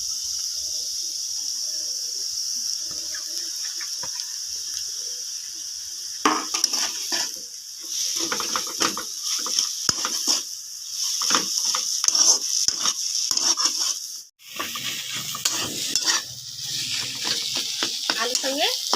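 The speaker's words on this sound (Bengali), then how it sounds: "এবার দিয়ে দিব আমি এখানে সেদ্ধ করা আলু।" Boiled potatoes tossed into a hot pan with spices, then stirred and fried: a soft sizzle first, then busy scraping and clattering stirring strokes with a brief pause near the end.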